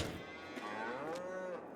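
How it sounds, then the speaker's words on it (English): Cows in a cow shed in a farming video game give a drawn-out low moo, then a second rising and falling call, clear and close over a steady background hum. "the cows are actually in here"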